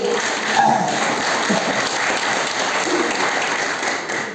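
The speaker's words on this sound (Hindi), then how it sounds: "तो एक बार जोरदार तालियां हो जाए गुरुदेव के लिए।" An indoor audience at a success seminar breaks into loud, continuous applause, a dense wash of many hands clapping that holds steady for several seconds.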